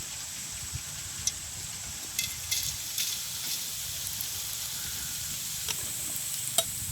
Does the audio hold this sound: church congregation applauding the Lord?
no